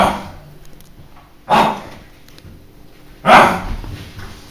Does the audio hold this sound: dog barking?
yes